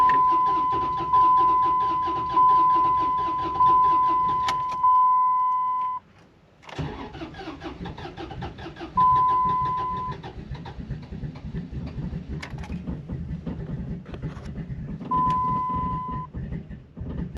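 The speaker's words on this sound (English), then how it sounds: "I'm gonna start it up now and let it warm up." A 2004 Dodge Ram that won't run cranks repeatedly with a loud whirring starter, pauses, then catches and settles into a steady rumbling idle, with a chime sounding at intervals.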